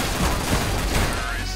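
Pistol fire in the video game CS:GO comes as a dense, rapid volley of loud shots that fills the moment, with game noise around it.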